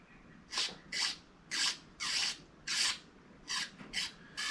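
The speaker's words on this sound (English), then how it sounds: "I take brake cleaner and squirt it down this tube here, around the sheath." Brake cleaner sprayed in short bursts down the sheath tube of a 1963 Mercedes-Benz 220SE speedometer cable, about seven hissing squirts in a steady rhythm, close and fairly loud with quiet gaps between.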